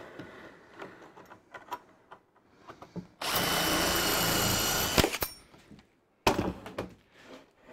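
A power drill drives screws into a drawer cabinet for a machine: one loud whirring burst of about two seconds, then a short second burst, set among scattered knocks and thunks of workshop handling.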